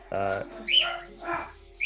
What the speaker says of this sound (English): he turns to you and he says that his dogs are barking.